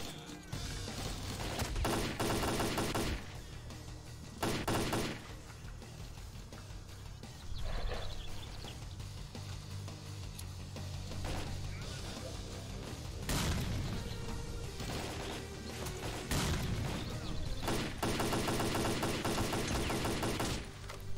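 Grenade blasts and bursts of rifle fire in the shooter game S.T.A.L.K.E.R. Clear Sky, with repeated heavy booms and crackling volleys spread across a long stretch of battle, some sharp and close, others duller and distant.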